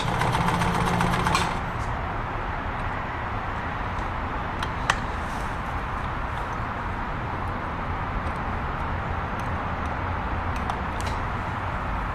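A Kenmore 1251 sewing machine stitching a blind hem, running in a steady, even mechanical whir at an unchanging pace, with a brief louder burst at the start and a faint click midway.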